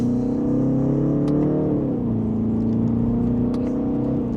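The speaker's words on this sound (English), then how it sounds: "And with a mild acceleration, we're up to speed." A 2025 BMW 330i accelerates in sport mode in second gear, its engine a steady, loud rising drone that dips briefly as it shifts, then carries on smoothly from inside the cabin.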